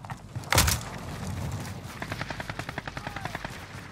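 Gunfire in the video game Call of Duty Warzone: a loud burst near the start, then a rapid, evenly spaced run of automatic shots continuing steadily to the end.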